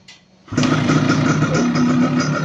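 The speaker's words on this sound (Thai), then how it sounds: "เปิดติดเครื่องติด เครื่องยนต์ติด" A GTO 125 motorcycle engine catches after a quiet start and settles into a loud, steady idle with an even mechanical putter, heard up close with no voices.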